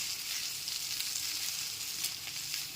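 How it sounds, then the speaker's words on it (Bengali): Egg chowmein sizzling in a hot pan as ground spice powder is stirred through, a steady, bright frying hiss with faint scraping of the stirring, fairly close and without talk. "গুঁড়ো মশলাটা দিয়ে খুব ভালো মতো মিশিয়ে নিচ্ছি"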